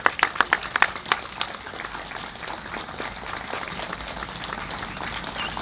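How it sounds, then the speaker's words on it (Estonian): Crowd clapping at an outdoor park opening, a burst of claps that quickly thins into a softer, steady patter with light background murmur. "kõik, kes siin ümber on, plaksutame julgelt"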